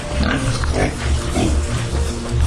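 Pigs on a smallholder pig farm grunting and snuffling close by, low overlapping grunts running continuously without talk.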